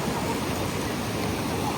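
The Barvi River at Badlapur rushes forcefully on a foggy morning, a dense, steady broadband roar of flowing water that fills the whole short stretch evenly, close and without pause.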